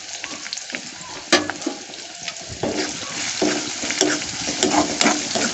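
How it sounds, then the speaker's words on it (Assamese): Onions frying in a pan with bay leaves, a constant crackling sizzle with repeated scrapes and knocks of a spoon stirring, close and moderately loud. "অকণমান পিঁয়াজখিনি লাল হ'ব দি"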